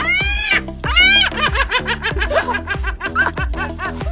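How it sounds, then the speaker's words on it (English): Seagull calling in a rapid run of loud, harsh, descending squawks and laughing yelps, close and continuous over about four seconds with no other sounds. "This is a seagull."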